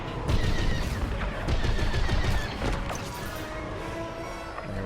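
Starfighter blaster fire in Star Wars Squadrons, rapid bursts of laser shots mixed with explosions and crashes, dense and loud against a steady engine and battle roar.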